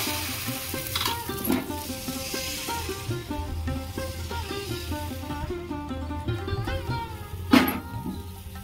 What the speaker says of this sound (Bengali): কড়াটা আমি ভালো করে গরম করে নিয়েছি। এবার 1 হাতা ব্যাটার দেব।